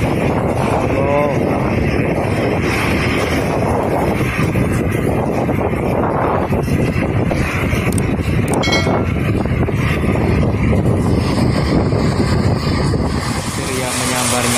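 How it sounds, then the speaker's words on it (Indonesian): Heavy rain and strong wind at night in Jeddah, Saudi Arabia, with sand blowing, roar steadily and loudly through the whole stretch, gusts buffeting the microphone, and a voice comes and goes underneath. "Hujannya sangat deras sekali"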